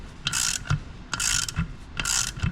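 Socket wrench ratchet clicking in three bursts while compressing cylinder head valve springs on LS heads for a swapped square body truck, close and fairly loud, with short pauses between each burst of pawl clicks.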